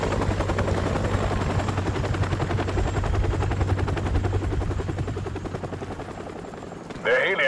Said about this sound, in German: Der Heli entfernt sich.